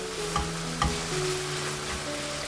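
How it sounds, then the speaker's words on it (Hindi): Spiced minced meat (keema) with paprika, turmeric and roasted cumin powder fries in a pan, a soft continuous sizzle under a low hum, with two light stirring scrapes early on. "पापरिका पाउडर ऐड करेंगे, हल्दी पाउडर ऐड करेंगे, भुना हुआ ज़ीरा पिसा हुआ ऐड करेंगे और इसको हम मिक्स करेंगे मसालों को इसके अंदर"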